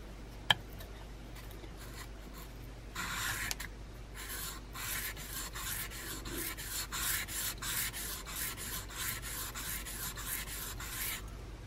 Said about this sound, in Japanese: 今先端の方を研いでみました。